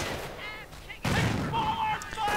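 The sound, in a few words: gunfire and grenades in a war video game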